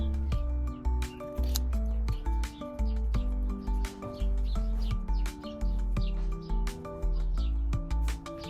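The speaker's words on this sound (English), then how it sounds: "So just cutting these in small pieces now and get these placed." Scissors snip repeatedly through garden screen mesh, cutting it into small pieces; sharp, close clicks and snips come in a quick, fairly regular rhythm over a low steady background hum.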